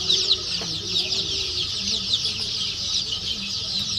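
A farm flock of about 1,500 local chickens, 25 days old, clucks and chirps in a dense, steady chorus, with faint low talk now and then.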